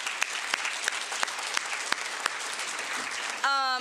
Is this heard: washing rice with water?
no